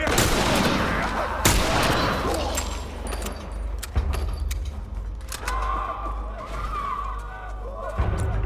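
Gunfire in The Last of Us Part II, with several sharp shots ringing out over dense, rumbling combat ambience and scattered clatter, loud and close throughout.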